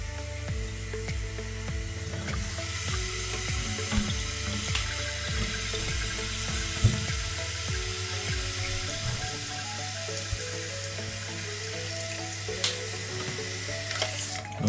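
Water rushes steadily into a toilet cistern through the inlet valve, a continuous hissing, gurgling fill heard close up and alone for the whole stretch.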